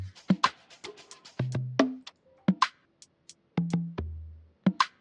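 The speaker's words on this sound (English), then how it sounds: "conga. Sounds like this." Conga percussion loop in a programmed beat, short slapped and open hand hits in a syncopated pattern, with pitched low tones between, close and dry with no talking.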